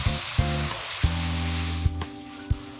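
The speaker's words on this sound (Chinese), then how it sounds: "然后起油锅，撒入葱花， 把番茄炒到软烂出汁" Tomatoes stir-fry in hot oil with chopped scallions for a Shaanxi noodle dish, giving a steady close sizzle broken by sharp, regular spatula clacks, with a sustained tonal hum underneath.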